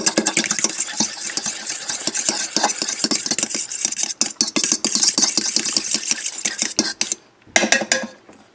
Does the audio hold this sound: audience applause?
no